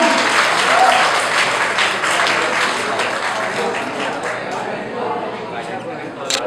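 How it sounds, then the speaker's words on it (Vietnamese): Steady audience applause fills the hall at a Vietnamese commemorative concert night for 30 April, loud and continuous for several seconds before tapering slightly, with faint crowd murmur underneath. "Xin quý vị một tràng pháo tay cho bé Thùy Ân."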